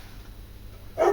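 A single short dog bark bursts out at the very end, after a second of low, steady room hum in a workshop where an old Opinel knife is being cleaned up.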